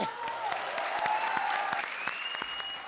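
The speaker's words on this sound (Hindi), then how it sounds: "जोरदार तालियां मस्की और पारुल के लिए" Studio audience applause on the Comedy Circus comedy show sounds as a steady, moderately loud burst of clapping, with background music tones running beneath it.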